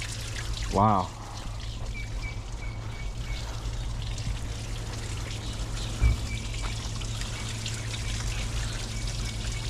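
Fluid drains out of a forklift in a steady, fast trickling pour that runs throughout, with a brief voice and a couple of clunks over it.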